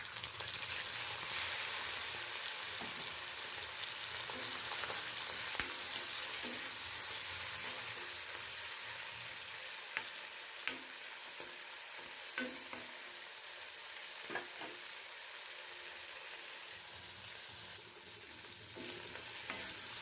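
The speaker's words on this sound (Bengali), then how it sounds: "চিংড়ি মাছগুলো হালকা করে ভেজে নেব।" Prawns sizzle steadily in hot oil in a pan, with a spoon or spatula stirring and scraping against the metal in scattered clicks throughout, close and continuous with no talking.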